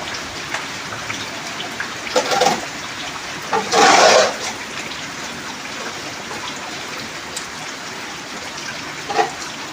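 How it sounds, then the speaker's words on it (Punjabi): Steady heavy rain in Punjab patters continuously, with a louder gush of water partway through and a few brief splashes over the constant downpour. "ਸਾਡੇ ਇੰਨਾ ਮੀਂਹ ਹੈ ਨਾ ਕੱਲ ਤੋਂ ਸਿਰ ਸ਼ੁਰੂ ਹੋਇਆ"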